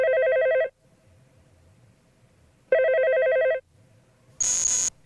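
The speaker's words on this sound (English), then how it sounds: "Listen, and when you hear your phone ring, pick up the receiver like" A See 'N Say toy video phone from 1989 gives two loud electronic telephone rings with a long pause between them, followed by a brief sharp higher-pitched beep.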